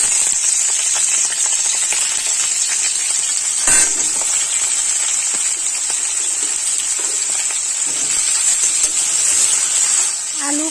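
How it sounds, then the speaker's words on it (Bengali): Cut potatoes frying in hot oil in a wok give off a loud, steady sizzle and hiss close by, with a sharper crackle burst partway through and occasional stirring noises. "তেল গরম করে নিয়েছি কেটে রাখা আলু দিয়ে দেবো"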